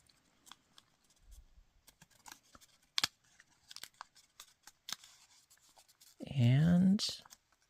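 Origami paper is creased and folded into a crane bookmark, with sparse crisp crinkles and taps of paper close by, and a person speaks briefly near the end.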